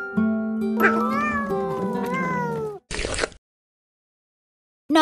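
A cartoon cat in an animated folk tale meows in a long, drawn-out, wavering cry, followed by a short burst of noise and then silence.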